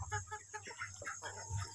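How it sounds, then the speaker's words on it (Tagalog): Rhode Island Red chickens clucking in a farm pen, a few soft irregular clucks mixed with low rumbling background and faint voices nearby. "Ayan, mga breed ng mga manok natin dito."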